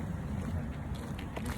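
Strong wind blows outdoors on a laundry day, a steady, loud rush of buffeting noise across the microphone that lasts the whole moment with no clear gaps.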